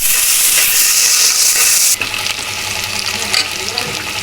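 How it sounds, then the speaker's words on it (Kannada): Two medium onions frying in a pan for a mung bean rice dish, giving a loud, steady hiss that cuts off abruptly partway and gives way to a quieter, continuous sizzle, with no talk. "ಈರುಳ್ಳಿ ತುಂಬ ಫ್ರೈ ಆಗಬಾರ್ದು, ಒಂದು ಅರ್ಧದಷ್ಟು ಫ್ರೈ ಆದರೆ ಸಾಕು."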